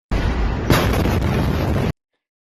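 A loud, sustained roaring blast fills the air for nearly two seconds with a sharper burst partway through, then stops abruptly into silence.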